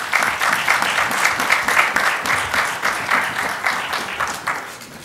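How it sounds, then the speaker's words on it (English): An audience applauds steadily, dense clapping sustained at an even level throughout. "A round of applause for them."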